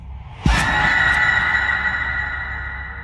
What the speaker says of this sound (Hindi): पीछे से एक शोर की चीख सुनाई दी।